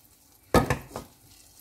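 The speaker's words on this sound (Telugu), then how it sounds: "బాగా మిక్స్ చేసుకోవాలి కలిపేసి" A spoon scraping and stirring a burger stuffing mixture with tomato sauce and mayonnaise in a pan, a few brief close strokes against the metal.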